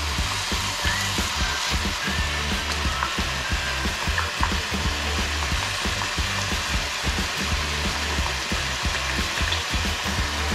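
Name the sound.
chicken curry with tomatoes sizzling after adding fish sauce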